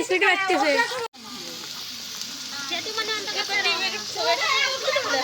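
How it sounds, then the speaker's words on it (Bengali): Potatoes fry for aloo bhaji in a village picnic cook-up, a soft sizzle running under nearby talking voices, with a brief dropout early on. "এখানে আলু ভাজি হচ্ছে"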